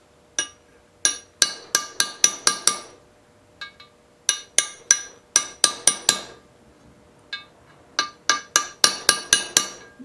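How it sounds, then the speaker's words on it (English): Hammer blows drive a 7/8 socket onto a seized Briggs lever engine, sharp metallic strikes landing in quick bursts of four to eight hits with short pauses between, close and clear with no talk. "You try to hit it in straight, but sometimes it don't work."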